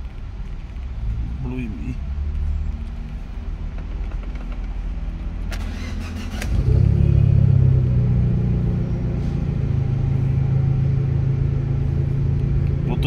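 A Fiat Punto T-Jet engine cranks and catches mid-clip, then settles into a loud, steady cold-start idle rumble close by; someone talks over the engine before and during it.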